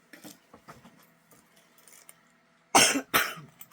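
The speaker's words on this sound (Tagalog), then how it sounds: "Nubo-ubo pa ako." Two loud, close coughs come in quick succession after some soft rustling and faint handling noises.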